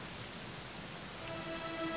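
Steady rain patters continuously on a surface in the video game Dragon Quest XI, soft and even, with a faint tonal hum rising near the end.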